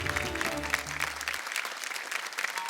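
Loud audience applause on a Marathi game show studio stage fills the whole stretch with dense, even clapping; a short bit of musical sound fades out early on.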